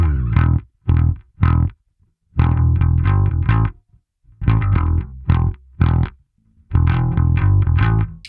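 A P-Bass played through the Neural DSP Parallax X distortion plugin gives loud, gritty, overdriven bass notes in short punchy bursts and sustained phrases, separated by brief silences, with no voice.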